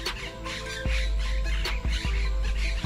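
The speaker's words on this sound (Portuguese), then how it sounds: "O periquito de papo branco se camufla entre as folhas, mas a gritaria não deixa dúvidas." White-throated parakeets squawk amid Pantanal foliage, with harsh repeated calls and sharp bursts over a dense, busy wash of wildlife sound.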